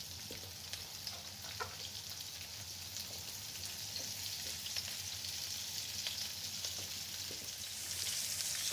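Onions and peppers fry in olive oil with a faint, steady sizzle and occasional soft crackles, low and continuous, swelling slightly toward the end.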